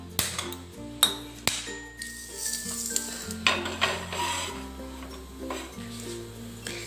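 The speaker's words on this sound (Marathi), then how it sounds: "हे थोडेसे शेकून घेऊ आपण। अगदी मंद आचेवर शेकून घ्यायचे" Pigeon pea (tur) grains roasting in a pan on a low flame, with soft stirring scrapes and a few sharp metallic taps and pings of utensil on pan, intermittent and close, over a faint background hum.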